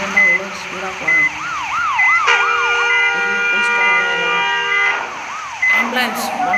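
A wailing ambulance siren in a bus simulator video game sweeps up and down, then shifts to a steady electronic tone, loud and close, with a voice speaking over parts of it.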